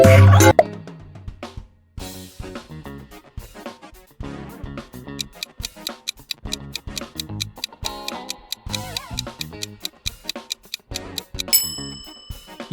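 AirHeads candy logo sound: a quick musical jingle of plucky, ticking notes with a rhythmic beat and a bright chime at the end, no talking.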